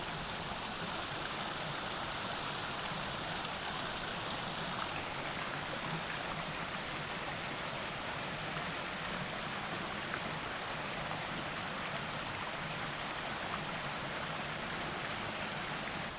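Mountain creek in the Smoky Mountains rushing over rocks, a steady broadband wash of flowing water holding constant and fairly close for the whole stretch, with no voices.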